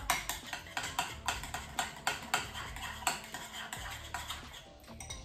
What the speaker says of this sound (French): on vient déjà un petit peu mélanger le tout une première fois